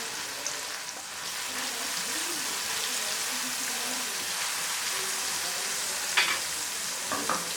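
A steady, broadband sizzle of a baghar tempering for kali masoor dal, hissing hot oil frying spices and green coriander, constant and close, with a couple of faint clinks of a utensil near the end.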